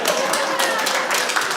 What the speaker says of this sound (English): Can you give a round of applause for me?